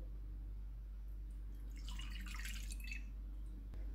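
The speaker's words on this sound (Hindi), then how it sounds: "एक बाउल में दूध डालेंगे" Milk is poured into a bowl for a garlic chicken cheese roll dough, a brief soft liquid splash and trickle close by over a low steady hum, without speech.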